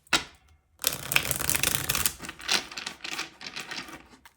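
A tarot card deck is shuffled by hand up close. After a short opening riffle and a pause, a long flurry of rapid papery flicks and slaps runs in quick uneven bursts, then thins out toward the end.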